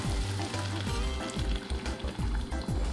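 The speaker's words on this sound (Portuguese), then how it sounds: "tá bem fritinha a cebola, já deu uma douradinha" Onions sizzle and crackle golden in a hot pan for a cassava and calabresa sausage soup, a steady close frying hiss broken by repeated scraping stirs.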